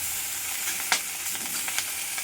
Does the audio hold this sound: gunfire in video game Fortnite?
no